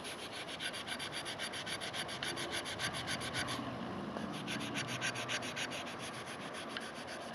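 Rubber-based abrasive scrubbing rust off the spine of a PUMA knife, with quick back-and-forth rubbing strokes in a steady rhythm, close and continuous.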